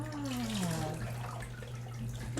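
Tap water runs steadily into a tub during a poodle puppy's first bath, a soft continuous splash with a low hum beneath it and a brief gliding squeak near the start.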